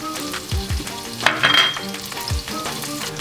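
Shaved garlic and chorizo frying in rendered oil in a pan: a steady close crackling sizzle with a few stirring scrapes and light pan knocks, no talk.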